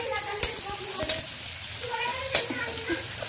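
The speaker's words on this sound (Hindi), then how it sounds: "पास्ता के लिए प्याज भून लिया" Onions frying in a pan for pasta, a soft sizzle under light stirring, with a few sharp clicks of a utensil against the pan and a voice talking over it.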